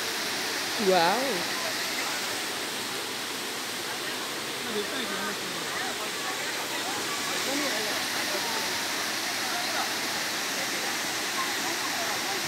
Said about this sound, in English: that's what the waterfall looks like.